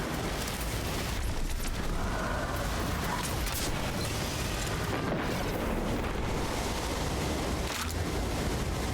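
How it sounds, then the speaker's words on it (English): A threadling grenade detonating in the video game Destiny, a loud, sustained roaring burst of explosive noise filling the whole span with broad rumble and crackle, no voices over it. "Threw my threadling grenade out there."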